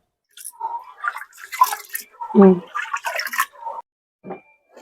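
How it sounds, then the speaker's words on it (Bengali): Rice and lentils being rinsed in water for khichuri, with intermittent splashing and dripping sounds heard close up while a voice talks over much of it. "আগে চাল ডাল ধুয়ে নিচ্ছে"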